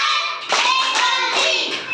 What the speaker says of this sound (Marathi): झकास टाळी वाजवा ना, झकास टाळी.